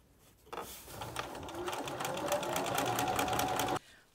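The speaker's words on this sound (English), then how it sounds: "Continue sewing the strip set to the first piece and then do the same thing with the second piece." A sewing machine stitches a strip set onto quilt backing fabric in one close, steady burst of rapid needle chatter lasting about three seconds, alone with no talk.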